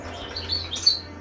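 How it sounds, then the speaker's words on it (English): Birds chirp outdoors in a couple of quick, faint high tweets over a low steady background hum, heard at a moderate distance with no talk. "the birds might be a little noisy, sorry, nothing I can do about that"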